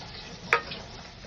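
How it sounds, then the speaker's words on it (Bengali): Onions frying in a pan, a faint steady sizzle broken by one brief sharp clink of a utensil partway through. "পেঁয়াজগুলো ভেজে নেওয়া হচ্ছে।"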